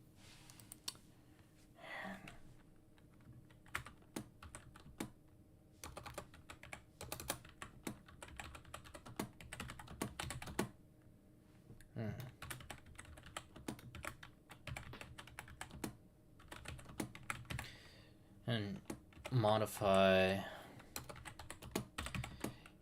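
Typing on a computer keyboard during a game jam work session, a steady run of quick close clicks and key taps through most of the stretch, with brief bits of speech and a louder burst near the end.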